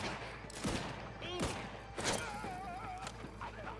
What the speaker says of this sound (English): That's actually a really good nade throw.